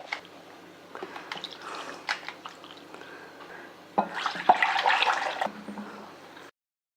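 Fresh strawberries being rinsed by hand in a bowl of water for a milkshake, with soft splashing and dripping throughout and a louder, sustained swishing burst near the end.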